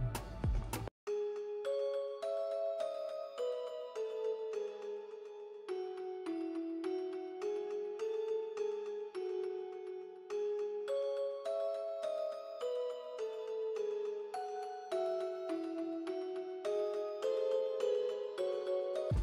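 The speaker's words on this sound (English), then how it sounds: "we got a bell from Expand, the old Celeste bell." Old Celeste bell patch from the Expand plugin, run through delay, rings out a bright melodic line of chiming notes with echoing repeats, steady and continuous for the whole stretch with no voices.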